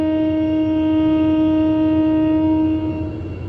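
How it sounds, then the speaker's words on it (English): A sustained loud railroad hump signal horn blast with a steady, buzzing tone, held for several seconds before fading slightly, nearby with rail yard rumble beneath, at Bailey Yard. "that's just a hump signal, letting them know that something's going"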